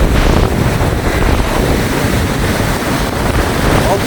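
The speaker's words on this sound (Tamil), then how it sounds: "பயங்கரமாக வந்து காற்றடிச்சு கொண்டு இருக்குது" Strong storm wind roars and buffets the microphone on the Myliddy coast, with crashing sea waves churning underneath in a loud, continuous, turbulent wash; no clear talking.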